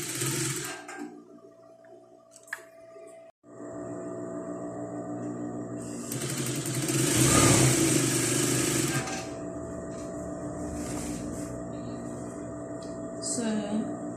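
A sewing machine stitches a seam on a flared dress, running steadily with a motor hum and rising to a louder burst of stitching midway before easing back, close by with no talk.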